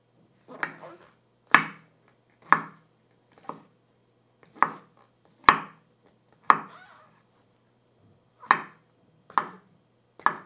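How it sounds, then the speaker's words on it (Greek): A knife slices bell peppers and mushrooms on a cutting board: about ten crisp, separate chops, roughly one per second with brief pauses, close and clear with no talking. "Κόβουμε τις πιπεριές. Κόβουμε και τα μανιτάρια σε φέτες."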